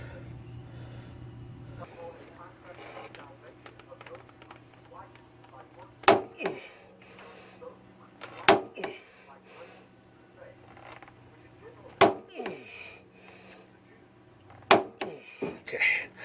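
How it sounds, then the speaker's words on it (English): A Craftsman DigiClick torque wrench tightens a bolt to 150 foot-pounds while an SPC upper control arm is installed. Four sharp, loud metallic clicks ring out at uneven intervals over a low background hum. "we're going to tighten this to 150 foot-pounds with my Craftsman DigiClick torque"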